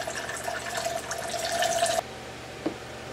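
Lemon juice pours into a mixed rum drink in a steady, close trickle for about two seconds, then stops, followed by a single small drip or clink.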